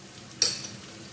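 A spoon stirs a melted butter mixture for Moroccan berkoukes in a pan, giving one brief, light scrape with a soft sizzle over a quiet background.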